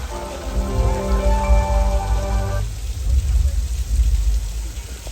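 Simulated rain pours steadily on the Universal backlot flash flood set, a dense close hiss of falling water, with a held musical tone over the first half that cuts off partway through.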